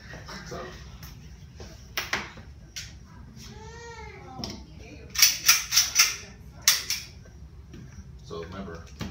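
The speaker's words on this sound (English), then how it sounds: "I want to shoot the handgun." Handgun shots at an outdoor shooting range, with a Ruger SP101 revolver and HK USP .40 pistol among the guns, sounding as a string of sharp, loud cracks spaced about a second apart, mixed with voices and other range noise.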